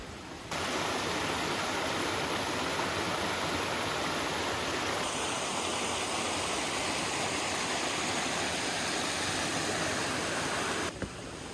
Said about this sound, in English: There's a river with a few cascading waterfalls right next to it.